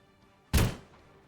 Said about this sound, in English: The autocannon's definitely firing.